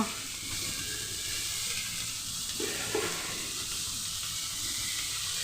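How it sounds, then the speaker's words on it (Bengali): Potatoes frying in hot oil, a steady close sizzle and hiss with a couple of brief stirring scrapes in the middle. "আলু মোটামুটি ভাজা হয়ে গেছে"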